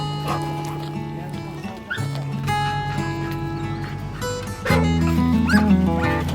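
Excited pheasant hunting dogs bark, yip and whimper near Redfield, South Dakota, their calls mixed into a dense, continuous layer of tonal background sound that grows louder toward the end.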